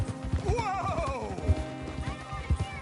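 A horse whinnies with a rising-then-falling neigh while hooves clip-clop in a steady rhythm, close and clear, with faint talk in the background, in the video game Red Dead Redemption 2.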